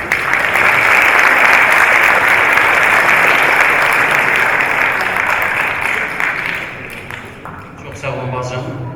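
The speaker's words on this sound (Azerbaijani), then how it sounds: "Alqışlar da məni fərəhləndirdi" A concert hall audience at a centenary tribute event for the poet Bakhtiyar Vahabzade in Baku breaks into loud, dense applause after a sung performance, sustained for several seconds before thinning out as a voice begins speaking.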